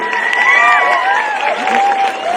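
A large crowd at a political rally cheers and shouts loudly, with many overlapping voices in a sustained roar close by.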